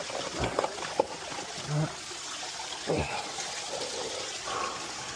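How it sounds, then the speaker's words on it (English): Water trickles steadily into a garden fish pond as it is being refilled, a soft continuous flow that stays fairly quiet throughout, with a few brief louder splashes and bumps along the way. "now I'm going to refill the pond again"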